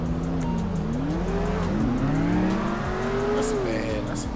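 A McLaren supercar drives up in a video game, its engine note rising and falling in smooth revving sweeps with a steady roar and faint tire squeal, loud and continuous throughout.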